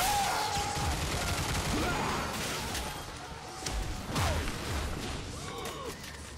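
Gunfire in the video game Bulletstorm comes in rapid bursts and volleys mixed with crashes and whooshing effects, forming a dense, busy layer of game action that fades briefly in the middle before picking up again.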